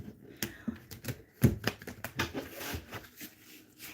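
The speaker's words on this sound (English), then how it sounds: "we're going to go ahead and shuffle this deck" Deck of cards being shuffled, a quick run of crisp riffling flicks and soft taps, close and fairly quiet, with no speech.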